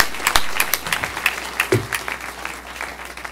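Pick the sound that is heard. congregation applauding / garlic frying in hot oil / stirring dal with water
congregation applauding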